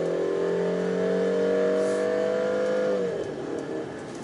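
Peugeot 3008 with a 1.6 liter turbo engine revving, a loud, steady tonal engine note that holds for about three seconds and then drops away into a softer rumble.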